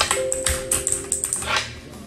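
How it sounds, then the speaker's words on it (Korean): Quick bursts of computer keyboard typing, close and crisp, with irregular clusters of key clicks and a steady faint tone underneath. "이 키보드 소리 좋아하시네. 많이 해줄까요?"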